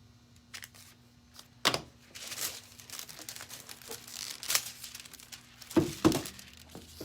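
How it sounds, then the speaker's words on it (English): Thin green craft foil crinkled and handled at close range, with a few sharp crackling bursts between quieter rustles and soft patting. "Let's take a little piece of our green foil."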